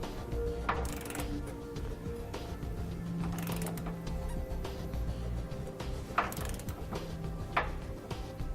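Ratcheting torque wrench with an extension tightening the top bolt of a Roadmaster rear anti-sway bar on a 2015 Ford E-Series Cutaway, a quiet run of repeated mechanical clicking with a few louder bursts.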